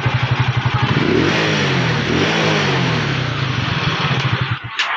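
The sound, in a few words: motorcycle engine running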